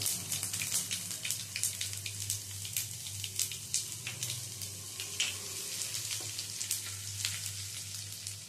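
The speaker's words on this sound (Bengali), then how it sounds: "এবার এর মধ্যে দিয়ে দেব কিছুটা আদা কুচি আর 4-5 কোয়া রসুন কুচি।" Chopped ginger and garlic hiss loudly in hot oil in a dal tempering, a dense close crackle with frequent sharp pops and occasional stirring.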